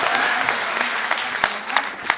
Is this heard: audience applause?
yes